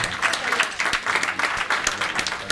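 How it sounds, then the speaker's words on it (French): At a community dinner, the gathered guests applaud the mayor with dense, uneven clapping that stays loud for the whole stretch, and a few sharper individual claps stand out. "Nous pouvons applaudir monsieur le bourgmestre."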